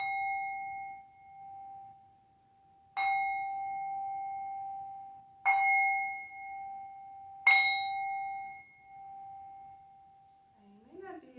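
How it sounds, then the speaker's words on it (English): A singing bowl, held flat on the palm, is struck four times; each strike brings a bright metallic onset and a long, pure ringing tone that slowly fades before the next hit, with a faint rustle at the end. "This is a singing bowl."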